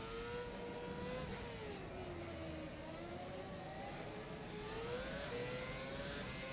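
Formula One car engine in the rFactor 2 racing sim, a steady high-pitched whine rising and falling as the throttle shifts through corners, continuous and fairly quiet, with no talking.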